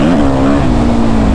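A Suzuki RM-Z 450 dirt bike engine on a ride, a loud, close, sustained buzzing drone that dips slightly in pitch then holds steady.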